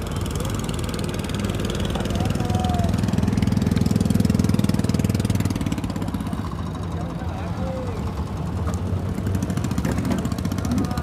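A boat engine chugs steadily as a boat pulls up at the Cái Răng floating market, a continuous mid-pitched putter with faint voices and market bustle around it.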